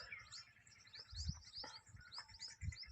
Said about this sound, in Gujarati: ચકલીનો અવાજ આવે છે।